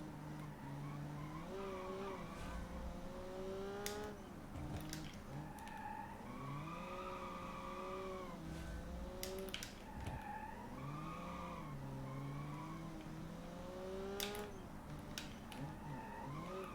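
A slow race car in a racing video game drives through corners with its handbrake, tires squealing and skidding in long wavering tones over a steady engine drone, fairly loud and without talk.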